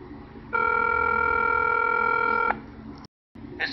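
Telephone touch-tone dialing produces a steady two-second tone, then a brief dropout and faint line noise follow, with no speech.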